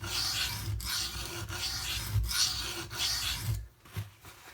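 A Spyderco Para 3 knife blade rasping across diamond sharpening plates in steady, even strokes, close and fairly loud with brief pauses between passes, then a few lighter scrapes at the end; no talk.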